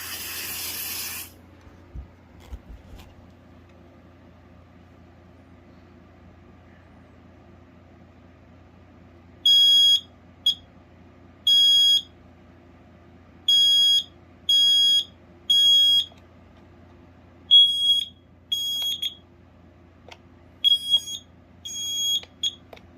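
A Kidde 900-CUAR combination smoke and carbon monoxide alarm, a photoelectric unit, sounds a loud, piercing electronic beep in repeated bursts, with a brief burst of noise at the start and a faint hum underneath.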